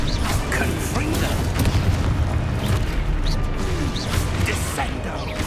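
Confringo blasting spells in Hogwarts Legacy, a dense string of booms, crackling bursts and crashing impacts stacked closely together, loud and near with no pauses between.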